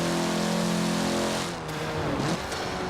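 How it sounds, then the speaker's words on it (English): A Mitsubishi car in the video game Forza Horizon 4, engine droning with a turbo whine that drops away abruptly midway as the revs fall. "The turbo noise actually isn't too bad."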